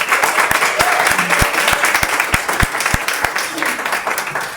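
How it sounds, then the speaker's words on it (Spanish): A church congregation applauding for the Lord during a service, loud dense clapping with a strong, regular rhythmic beat of hits running through it, steady for several seconds with voices mixed in. "Un aplauso para el Señor."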